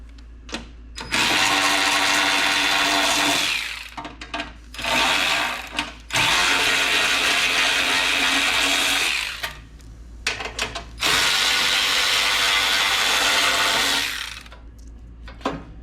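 A power tool working 10mm bolts loose on a Toro 721 E snow blower, three long loud whirring bursts separated by brief pauses and small clicks, close up with no talking.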